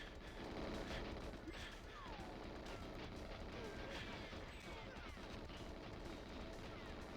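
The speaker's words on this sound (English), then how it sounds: "Lots of explosions." Constant rumbling blasts and crashing booms from game action in 007: GoldenEye, dense and continuous with no pauses.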